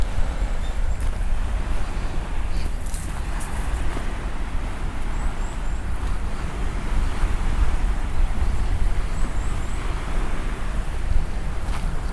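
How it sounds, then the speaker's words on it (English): Sea waves wash against the coast of Ogijima island under steady wind, a constant broad roar with gusty microphone buffeting, close and loud without pauses. "Look, the sea."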